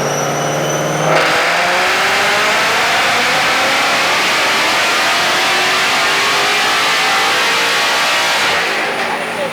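A Whipple supercharged 2024 Mustang GT revs hard on a dyno, a loud, sustained engine roar with rising whine that builds after a brief idle and holds near full throttle, then starts to ease off at the end.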